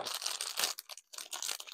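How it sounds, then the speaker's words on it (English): Scissors cut open a plastic package, giving close, quiet crinkling and crackling of plastic in short bursts with a brief pause midway and no talking. "but I have scissors that I can use"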